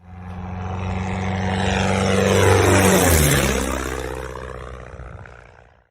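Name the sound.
six-second stinger played on a livestream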